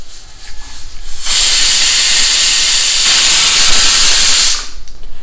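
Pressure cooker releasing steam while cooking sticky rice, a loud, steady, close hiss lasting several seconds that starts abruptly and then cuts off, with quieter room noise before and after.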